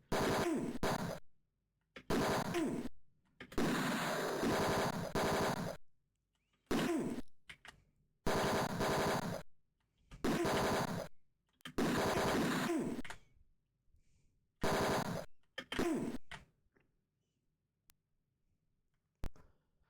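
Bursts of gunfire from the Tex Murphy: Mean Streets game, loud rapid volleys in about ten separate clusters, each lasting under a second to two seconds, separated by short silences, with no voices.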